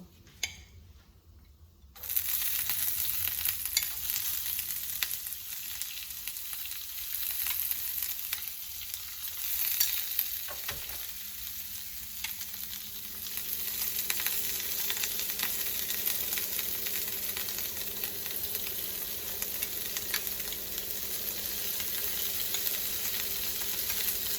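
Chopped onion, green chili and ginger sizzle steadily in hot oil in a pan for chirar pulao, with a dense continuous frying hiss after a brief quiet start and an occasional clink of a utensil.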